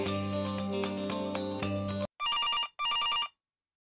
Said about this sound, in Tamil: நம்ம வீட்டில் லேண்ட்லைன் ரிங் ஆகுதா?